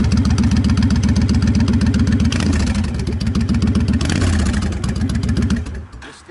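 A 2005 Honda VT1300R motorcycle with a Stage 1 kit and tuned carburetor runs just after electric start, a loud, close, rhythmic thumping idle that holds steady before dropping away at the end.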